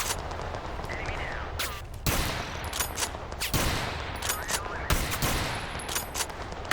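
Bursts of automatic gunfire from the player's weapon in the shooter game Total Conflict: Resistance, sharp loud volleys separated by brief pauses, with scattered shots and game effects between them.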